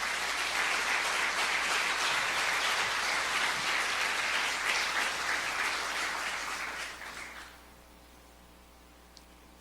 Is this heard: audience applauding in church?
yes